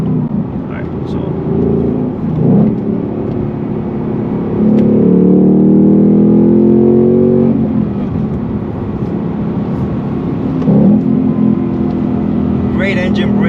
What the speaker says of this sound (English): great engine braking with the Mach 1.